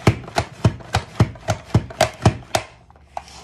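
Vegetables such as zucchini and carrots are pushed through a Rapid Prep Mandolin slicer, making about ten rhythmic, close chopping thunks at an even pace before stopping.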